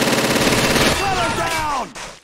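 Rapid automatic gunfire in Call of Duty 2 with a mod, dense overlapping bursts that ring out loudly, then taper into whistling ricochet-like tails and a final sharp crack.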